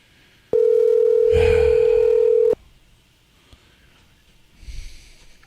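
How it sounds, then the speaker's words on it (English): Telephone dialing for an on-air radio call: one long steady dial-type tone for about two seconds, with a breath or snort partway through, followed by a quiet pause and a soft rustle. "we'll surprise her and give her a call and put her on the air"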